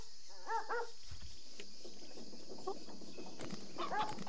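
A cartoonish dog barks in the Barbie Pet Rescue PC game, giving a few short yelps in separate bursts over light game sounds.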